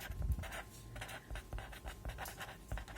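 A pen scratches across paper in quick bursts of close strokes with short pauses between them, like someone writing down a math calculation, with no talking.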